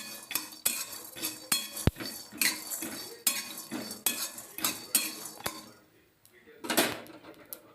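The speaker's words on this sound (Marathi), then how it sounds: "आता त्याला मंद आचेवर आपण याला असे भाजून घेणार आहोत" Whole spices with bay leaf are dry-roasted in a pan over low flame, stirred with a metal spoon in rhythmic scraping strokes and occasional sharp taps against the pan, close and steady, briefly pausing near the end.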